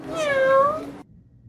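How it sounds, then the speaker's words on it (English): A single drawn-out cat meow, close and clear, lasting about a second before falling silent, with no audible purring. "And as for Tom, a little bit of purring and cat lap time eases those struggles."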